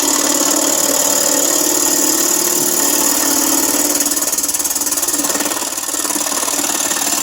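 A wood lathe spins steadily at over 1,000 RPM while turning a pedestal dish, giving a loud continuous whirring drone with a faint rattling texture and little variation.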